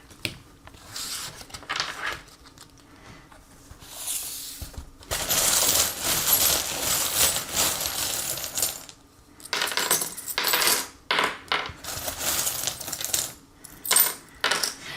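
Small metal fortune-telling charms are tossed and dropped, giving bursts of clinking and jingling in irregular clusters, fairly close and with no talking.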